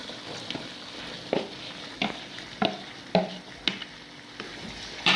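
Fava beans and tomatoes are stirred in a hot frying pan, a utensil scraping and knocking the pan about once a second in sharp, close strikes over a steady, quiet sizzle.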